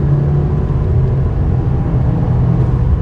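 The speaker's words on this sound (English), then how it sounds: "All right, guys, second gear, rolling on that throttle. Third gear." A 2020 Subaru WRX base model accelerates hard through second and third gear, its engine droning steadily and loud from inside the car with constant low rumble and no talking.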